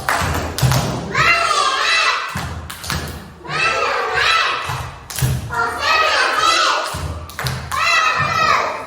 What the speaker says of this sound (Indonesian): Ice breaking dulu yang tepuk fokus.